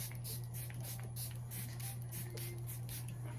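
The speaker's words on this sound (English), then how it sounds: "I go in my setting spray" Charlotte Tilbury Airbrush Flawless setting spray hisses in a quick series of short, even bursts over a low steady hum.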